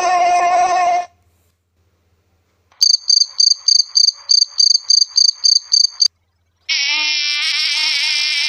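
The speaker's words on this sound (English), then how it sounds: "They are insects." Insects chirp in sharp repeated pulses, a rapid rhythmic trill of about a dozen bursts, framed by a buzzy whining drone before and after with a brief silence in between, all close and clear with no talk.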